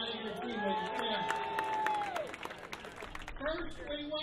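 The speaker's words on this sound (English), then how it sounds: "You can clap for these Tiger teammates" An audience applauds Detroit Tigers teammates at a Rocky Colavito statue program, a steady crowd clapping with a few cheers while a voice carries over it.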